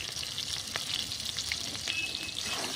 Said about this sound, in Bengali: তেল গরম হয়ে গেছে, এখন দিয়ে দেবো টমেটোর কুচি, লঙ্কা কুচি, আর পেঁয়াজ কুচি।